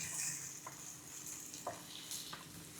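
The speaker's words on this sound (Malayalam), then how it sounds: "അപ്പം അതിങ്ങനെ നന്നായിട്ട് ഇങ്ങനെ വയറ്റണം." Onions sizzle and fry in a pan for chicken biryani, a steady hiss with a few scraping strokes of a spoon as they are stirred, close and even throughout.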